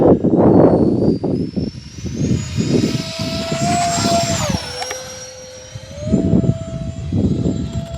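An E-flite A-10 twin 64mm electric ducted-fan model jet takes off under full throttle, its loud rising turbine whine climbing steeply in pitch, sweeping overhead and holding steady as it climbs away, with rumbling wind buffeting low.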